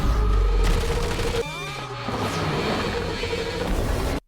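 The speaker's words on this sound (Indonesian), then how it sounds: "Kaiju itu ditembaki dari atas, bawah, kiri, kanan." Animated film battle as soldiers fire from helicopters on a kaiju: a loud burst of gunfire and booms, then a descending whine and rumble, ending abruptly.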